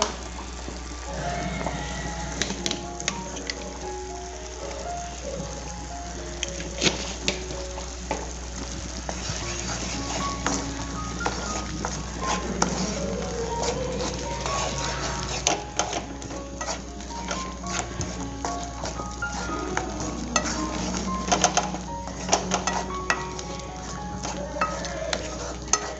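Mutton sautéing in a pan with mutton masala powder and chili powder for kulambu, a steady close sizzle with occasional stirring scrapes and clinks that runs without a break.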